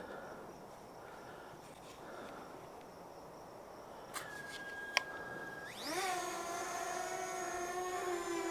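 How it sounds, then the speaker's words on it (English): A Fimi X8 Mini drone takes off after a quiet stretch of ambient background with faint insect-like noise: a click and a sharp tick, then the propellers spin up into a rising, steady high-pitched whine that stays loud. "let's get this bird in the air. So I'm going to click take off on the app."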